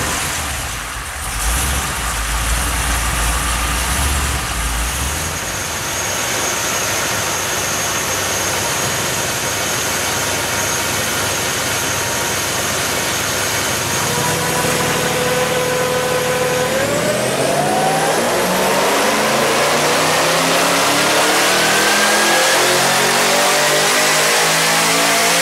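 A 427 engine in a car running mild boost, 8 psi, revs hard up close, first a rough idle, then a long sustained loud drone and a sharp climbing rev that sweeps upward near the end, no speech.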